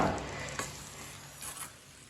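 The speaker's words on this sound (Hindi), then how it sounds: "इसे अच्छी तरह मिक्स कर लेंगे।" A spoon stirs thick peach murabba in a pot, producing a few soft scrapes and knocks against the metal over a faint sizzle-like hiss, with no talking.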